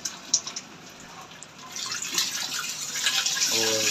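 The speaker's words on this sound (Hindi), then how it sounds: "घिया जो सा वो बॉयल हो चुका है और इसको भी छलनी में जो है वो हम छान लेंगे" Boiled bottle gourd is poured into a sieve and strained, with water splashing and trickling steadily, swelling louder toward the end, close and without talk.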